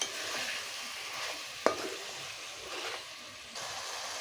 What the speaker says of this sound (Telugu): ఇవి వేగుతున్నాయి కదండి